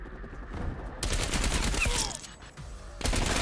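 AK-47 fire in Call of Duty Cold War, bursts of rapid gunshots in two loud clusters separated by a short gap, close and sharp, with no talking.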